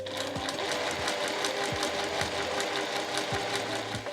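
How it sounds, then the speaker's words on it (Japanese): A sewing machine stitches the curved seam of a fabric tote bag, running in a steady fast whir with soft rhythmic needle thumps, close and continuous. "ここのカーブの部分をそれぞれ縫って仕上げていきます"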